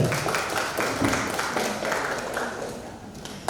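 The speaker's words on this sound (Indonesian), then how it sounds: "Tepuk tangan untuk MC kita, Mbak Belinda." An audience at a university guest lecture applauds the MC, a dense wash of hand claps running steadily throughout with a faint voice underneath.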